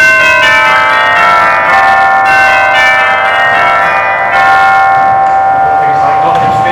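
Chimes on a Wurlitzer organ ring out in sustained bell-like tones that overlap and linger, loud and close, with speech faintly beneath.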